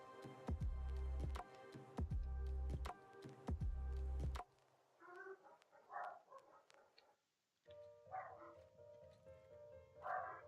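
A dog barks close by in a few sharp bursts, loud at first, followed by softer yips and whimpers.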